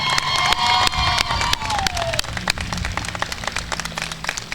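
Applause for the faculty at the Klamath Community College 2023 commencement: a large crowd clapping steadily and loudly throughout, with scattered cheers and whistles mixed in.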